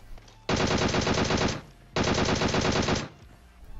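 Automatic gunfire in the video game PUBG Mobile rattles out in two loud, dense bursts of roughly a second each, separated by a short pause, with no talk over it.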